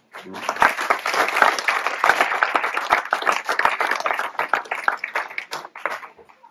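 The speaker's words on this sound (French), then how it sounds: "je pense qu'on peut les applaudir tous" A small gathering in a French village hall claps for about six seconds, the individual handclaps fairly distinct and close, swelling quickly and then tapering off.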